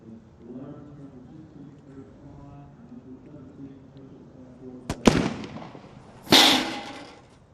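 A sniper rifle shot at a SWAT team competition in the UAE: a sharp broadband crack near the five-second mark, then a second louder report with a lingering decay, heard over background talk.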